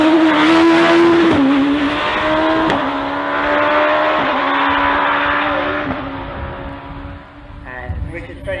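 A hillclimb race car blasts past at around 120 mph on the Gurston Down course, engine screaming near and loud before dropping away as it passes, under a commentator's steady talk.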